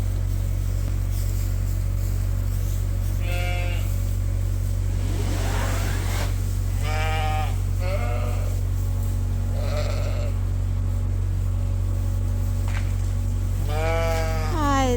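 Newborn Horned Dorset lambs bleat repeatedly, close by, in short wavering cries scattered across a steady loud engine-like hum.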